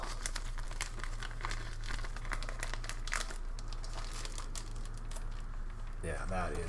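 Close, loud crinkling of an oil-coated plastic bag from an Estonian 24-hour military ration pack, rapid irregular rustles and crackles handled continuously, with a steady low hum beneath.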